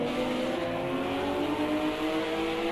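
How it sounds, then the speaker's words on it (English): Cadillac GT3 race car engine at full throttle during a GT3 Open Class round, a loud, steady, close drone with strong rising harmonics, holding a sustained high-rev note throughout. "You can just hear that distinctive sound of that Cadillac"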